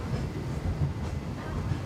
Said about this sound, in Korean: 정상으로 가기 위해선 피크 트램을 타야 한다